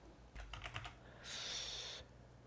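Keys clatter on a computer keyboard as a password is typed, a quick run of soft close taps followed by a brief hissy rustle, quiet and without speech.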